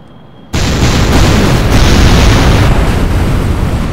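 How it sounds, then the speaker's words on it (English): Explosion from a plane crashing into the ground in the game Kerbal Space Program: a sudden loud broadband blast that cuts in sharply after a short quiet lead-in, then a sustained roaring rumble that holds steady to the end. "Or just crash into the ground, killing Dan Lane in a fire explosion."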